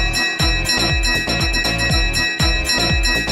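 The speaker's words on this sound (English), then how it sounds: "Ring the bell." A bright, ringing bell in a Peppa Pig cartoon is struck repeatedly in a quick, even rhythm, each loud clang sustaining into the next.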